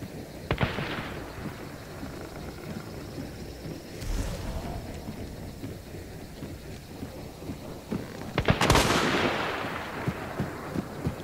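Mosin rifle shots ring out in the video game Hunt Showdown, with three sharp, loud reports spread over several seconds that echo against a windy outdoor background.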